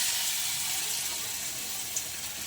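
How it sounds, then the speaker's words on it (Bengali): Greens fritters frying in hot oil make a steady, dense, close sizzling hiss that carries unbroken through the short stretch, with no voices over it. "এখন আমি এইগুলো তেলে দেব। তেল আমার গরম হয়ে গেছে"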